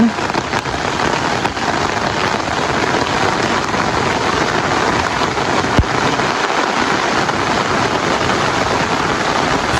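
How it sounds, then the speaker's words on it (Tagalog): Steady, dense rain pattering on pond water, a continuous hiss of countless drops with no voices, one brief sharper tap partway through. "Gawa ng napapatakan po ng tubig ulan"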